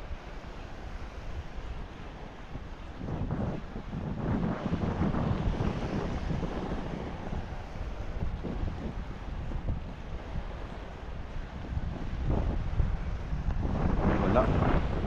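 Wind rushes across a shoreline fishing spot during ultralight casting, buffeting the microphone in uneven gusts that rise toward the end, with muffled bits of activity and no clear talk.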